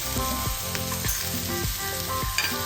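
Tomatoes with a pinch of salt fry in a pan and are being roasted for chutney, making a close, steady sizzle. Rhythmic stirring strokes scrape the pan about twice a second.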